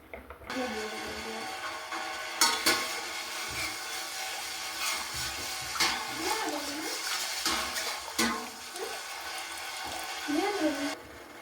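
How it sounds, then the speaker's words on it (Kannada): A pot of water with madd soppu (Coorg medicinal leaf) boiling for halwa, a steady rushing bubble throughout with a voice speaking over it and a few sharp clinks. "ನೀರು ಚೆನ್ನಾಗಿ ಕುದೀತಾ ಇದೆ"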